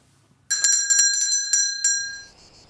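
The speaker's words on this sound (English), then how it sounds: "I would ring the bell and say lunch is ready" A hand bell rung indoors to call someone to lunch: a quick cluster of bright, ringing strokes, then a couple more, with the tone left to fade away alone.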